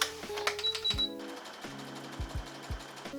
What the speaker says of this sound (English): I think I'm going to zigzag it too.